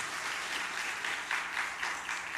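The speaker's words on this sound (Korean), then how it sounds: "여러분 박수로 축하해 주시길 바랍니다." Steady applause from a church congregation during an Easter service, sustained clapping at even volume throughout with no voices over it.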